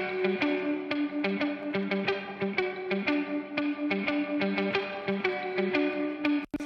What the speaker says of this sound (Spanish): Casi, casi se escucha como una especie de flutter echo, ¿no?